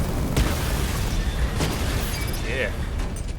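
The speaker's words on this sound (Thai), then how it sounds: "จุดอ่อนของพวกมันอยู่ที่ ป้อมปืนนะครับ มันก็จะระเบิดแบบนี้นี่เอง" A gun turret explodes in Batman Arkham Knight with a couple of booming bursts and rumbling debris, mixed with game noise while someone talks over it.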